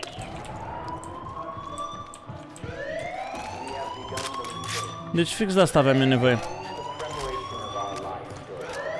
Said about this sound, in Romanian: De o fucking alarmă.